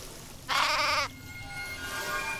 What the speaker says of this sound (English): Oh, here's the sheep.